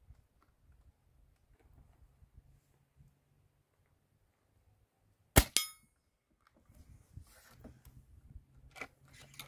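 A Hatsan Torpedo 155 Vortex air rifle pellet strikes a steel target with a single sharp metallic clang in a quiet outdoor setting, followed by faint rustling and handling noise.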